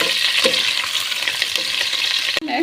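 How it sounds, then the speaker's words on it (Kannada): Sliced onions fry in hot oil with cinnamon, cloves and bay leaf for vegetable pulao. The sizzle is bright and continuous, close by, with occasional stirring scrapes and a sharp clink near the end. "ನಂತರ ಈರುಳ್ಳಿನ ಹಾಕಿಬಿಟ್ಟು ಫ್ರೈ ಮಾಡ್ಕೊಳ್ಳಿ"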